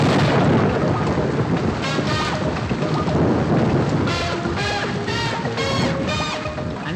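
Heavy rain pours down in a dense, constant roar while thunder rumbles loudly through it. Bursts of higher chirping or tonal sounds appear in the later half.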